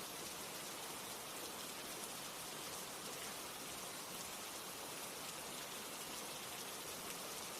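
Steady rain falling, a continuous even hiss of drops with no pauses, moderately soft and constant throughout, no voices.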